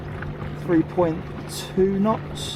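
A ThrustMe Kicker electric outboard motor pushes a boat with the tide, giving a steady low hum beneath a man's close speech.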